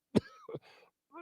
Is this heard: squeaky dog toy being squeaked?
no